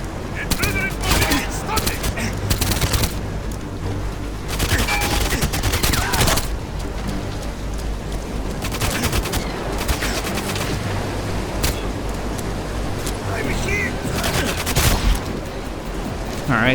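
Sniper rifle shots fired at enemies in the first-person shooter GoldenEye 007: Reloaded, a loud sharp report recurring over a busy, steady game soundscape of background noise and music.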